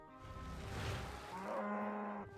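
A cow moos in the RuneScape video game, one drawn-out low lowing call that swells and holds for about two seconds, loud and clear with no talking over it.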